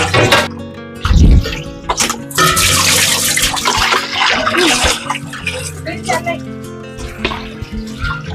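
Household vessels and buckets get scrubbed and rinsed with water, with splashing, pouring and clattering metal. The sounds carry on under ongoing conversation nearby.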